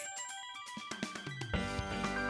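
Phone ringtone in a horror video game, a short electronic ringing melody with bright repeated tones, clear and alone without talk.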